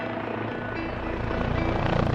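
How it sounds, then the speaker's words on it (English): Rotors of an XV-15 experimental tilt rotor aircraft thrum loudly and close, a dense rhythmic chop that grows stronger toward the end, with no voices. "The XV-15 is an experimental rotorcraft. It's the parent of a new family of aircraft called tilt rotors."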